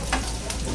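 Small, already-cooked pieces being briefly fried in a pan: a steady, close sizzle with crackling spatter and a short stir, no talking.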